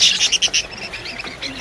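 Parrots at an outdoor bird market fair chirp and squawk in rapid, high twittering bursts, close and fairly loud, with a faint background murmur of the market.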